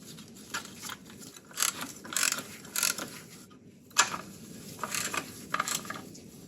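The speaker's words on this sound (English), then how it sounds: "Take your shorter bolt, screw it in here." A bolt is screwed in by hand during installation of a Volkswagen power steering pump, giving quiet, irregular metallic clicks and ratchet-like ticks in short bursts.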